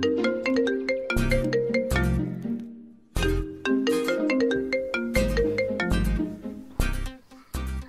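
A melodic electronic ringtone plays loudly and continuously, repeating its short tune in a steady rhythm, with no talking over it.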